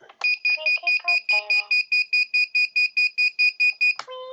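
A freestyle quadcopter's standard buzzer alarm sounds as a rapid series of about fifteen sharp, evenly spaced high-pitched beeps, close and clear, ending with a brief different tone.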